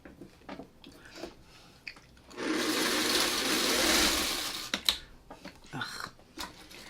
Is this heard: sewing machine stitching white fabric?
yes